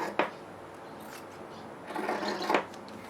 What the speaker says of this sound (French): je vais découper donc l'excédent de tissu ici